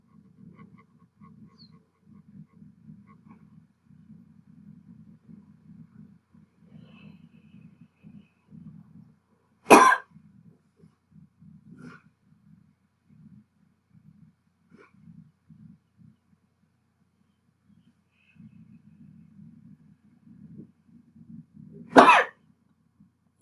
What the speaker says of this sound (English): that's the huff cough.